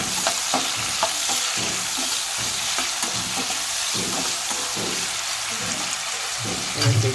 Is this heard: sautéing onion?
yes